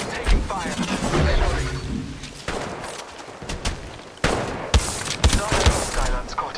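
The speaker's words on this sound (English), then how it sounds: "Yeah, getting shot at. In combat, I am taking fire." Gunfire in the mobile shooter Apex Legends Mobile, in a sniper and shotgun mode: repeated close shots and bursts arrive in clusters, loud and sharp, with a voice talking through much of the action.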